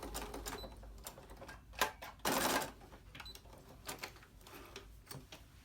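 A sewing machine stitches a hem on shortened store-bought curtains, giving a quiet, uneven run of mechanical clatter and ticks, with one louder burst midway and no talking.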